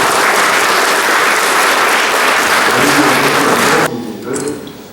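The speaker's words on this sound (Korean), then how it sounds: "여러분의 박수와 함께 시작하도록 하겠습니다" Loud, dense applause from an audience opening a public forum on decommissioning the Hanbit nuclear power plant, sustained for several seconds and then cutting off abruptly, leaving a quieter tail.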